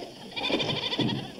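A goat bleats in a short wavering call with a second bleat close behind, fairly near and clear against a quiet background.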